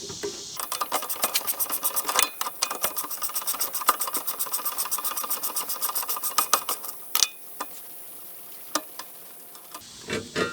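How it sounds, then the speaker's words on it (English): A ratchet wrench clicks rapidly and steadily while loosening a rear sway bar link nut on a 2005-2009 Subaru Outback, then slows to scattered single clicks near the end, close and fairly quiet. "We got a crack loose, we'll switch over to the ratcheting part of the wrench."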